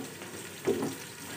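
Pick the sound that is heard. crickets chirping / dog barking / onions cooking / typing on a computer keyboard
onions cooking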